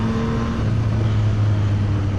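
A 2024 Yamaha MT-09 SP motorcycle engine pulling hard under acceleration, a loud, close, steady drone with a low rising tone and a continuous rumble throughout.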